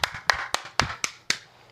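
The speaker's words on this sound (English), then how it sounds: "Clap it up." Six sharp, evenly spaced hand claps, close and crisp, each ringing briefly in a small room during a live show, with no talking.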